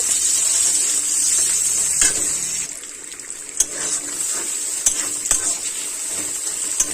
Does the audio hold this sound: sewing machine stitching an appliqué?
no